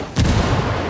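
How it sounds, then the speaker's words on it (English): A frag grenade explodes in the tactical shooter Ghost Recon Wildlands Ghost War mode: one sudden loud boom with a heavy low rumble that lingers and slowly fades. "Throw a grenade, Mark. Frag out!"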